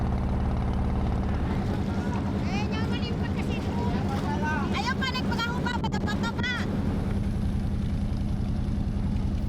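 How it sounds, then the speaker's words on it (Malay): A wooden klotok river boat's engine chugs steadily and loudly throughout on a river in Banjarmasin, Borneo, with a person talking over the motor for a few seconds in the middle. "Kami menaiki klotok, bot kayu yang menjadi pengangkutan utama di sungai-sungai Banjar."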